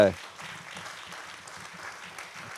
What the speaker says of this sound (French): je pense qu'on peut applaudir cette table ronde